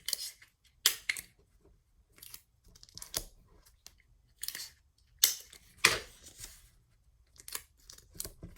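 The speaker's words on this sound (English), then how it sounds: "right now I'm cutting up that net to form something else" Scissors cut up a paper geometry net in a series of short, crisp snips and crinkles, close and fairly quiet, in irregular bursts with pauses between, without talk.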